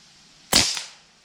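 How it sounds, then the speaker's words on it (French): A single sharp rifle shot cracks out at a target in the woods, close and loud, with a quick bright snap that fades over about half a second, with no talking. "Tire-lui dessus, vas-y, tire-lui dessus."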